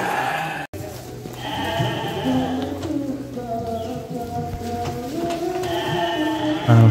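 Sheep being unloaded for shipment bleat repeatedly, several overlapping calls of varying pitch over a background of shuffling and movement, close and fairly loud.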